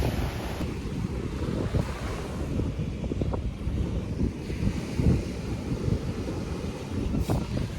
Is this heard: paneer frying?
no